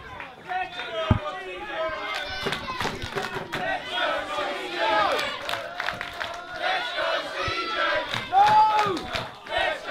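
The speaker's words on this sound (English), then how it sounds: "Just hear what the Boreham Wood crowd feel about CJ Carter." A crowd of wrestling fans at an Ignite Wrestling street fight show in Borehamwood roars and cheers loudly, with shouts, chants and claps overlapping continuously for the whole stretch.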